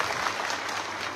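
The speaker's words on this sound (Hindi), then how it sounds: "जरा जोरदार ताली बजा के बताओ कैसा लगा" A crowd at a political party workers' meeting in Datia district claps steadily, a dense unbroken wash of applause heard up close.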